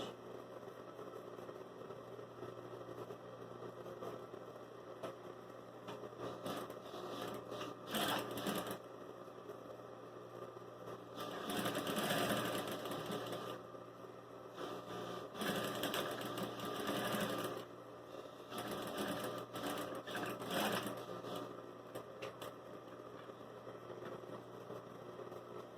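A sewing machine stitches denim in bursts, its motor whirring up to speed for a few seconds at a time and pausing between runs, close and steady with no talking.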